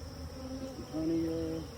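Honey bees hum at a hive of newly installed Russian package bees, a close, steady drone with a brief rise in pitch partway through.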